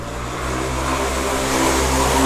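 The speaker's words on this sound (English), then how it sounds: "Quite a lot of motorbikes" A motorbike passes near a garden, its engine a loud steady drone that swells gradually as it approaches, with no talk over it.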